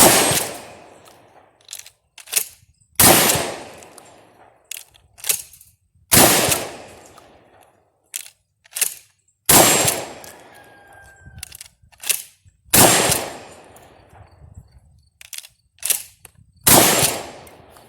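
A shotgun fires repeatedly on a range, with loud, sharp blasts every few seconds, each ringing out and decaying, and smaller clicks and clatters of handling in between.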